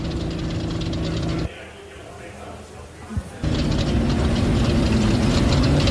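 Pro Light buggy engine at an off-road race at a 4x4 adventure park, a steady loud revving drone that drops away briefly to a quieter distant hum, then swells back, with voices talking over it.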